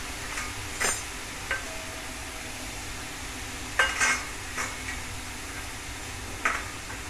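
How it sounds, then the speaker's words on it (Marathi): Beetroot vegetable cooking in a pan on the stove, with a faint steady simmer under occasional short clinks and scrapes of a spoon stirring against the pan; no talking. "आपली भाजी शिजत आहे."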